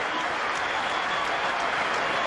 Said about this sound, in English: getting a standing ovation from the crowd here in Sharjah